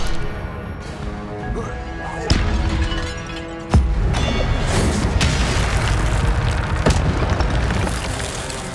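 An Incendio fire spell is cast in the wizarding game Hogwarts Legacy, landing with two heavy booming impacts and then a loud, sustained roaring burst of flame.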